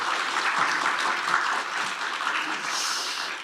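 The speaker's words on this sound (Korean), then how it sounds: "우리 김병욱 의원님하고 이소영 의원님한테 힘써달라고 박수를 부탁드립니다." Sustained audience applause at a startup review seminar, a full even roar of many hands clapping that holds loud and close throughout, easing slightly near the end.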